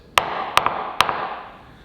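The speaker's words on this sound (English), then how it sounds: "I could tap this all day." Three sharp knocks on a cured fibreglass repair patch on a sailboat hull, each a crisp, bright tap with a short ringing decay, the second followed by a lighter double tap, close up with no talk.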